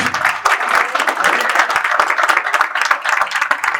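A crowd at a Turkish chopper motorcycle club vest ceremony in Adana gives loud, lively applause, with sharp individual claps standing out in a full, uneven wash that keeps surging for several seconds.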